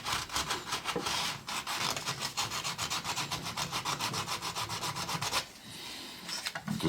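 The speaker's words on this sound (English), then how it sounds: "This is just 400 grit sandpaper." Rapid back-and-forth scuffing of 400 grit sandpaper on a seat trim part of a 1998 Lincoln Mark VII, a steady close rasping rhythm of quick strokes that pauses briefly near the end.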